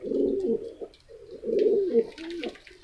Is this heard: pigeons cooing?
yes